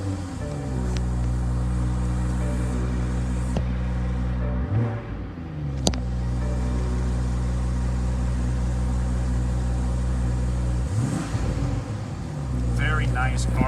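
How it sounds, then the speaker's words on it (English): A steady, deep engine drone with rumbling exhaust from a 2018 BMW X3 M40i SUV in Sport Plus mode, rising in a couple of revs, heard close up and continuous throughout. "Very nice garbly exhaust sound, really aggressive, very sharp stuff."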